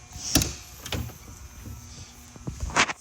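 A 2023 Jayco Greyhawk 27U RV entry door shuts with a couple of sharp latching thuds and clicks, spaced across a few seconds, close by and fairly quiet, with the power step left extended.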